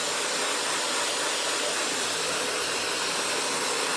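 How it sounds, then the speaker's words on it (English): A hair dryer blows steadily and loudly, a constant broadband whoosh with no breaks and no voices. "so I'm going in with the hair dryer."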